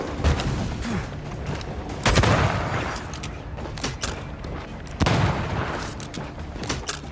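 Heavy gunfire blasts in Banishers: Ghosts of New Eden, a lantern shot at, with loud booming reports at irregular intervals over a dense, roaring din of combat.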